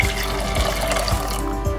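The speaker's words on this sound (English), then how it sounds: "And I add a little water" A little water poured into an empty cooking pot while making Rivers State fisherman soup, a steady close splashing trickle over a low background hum, with no talk.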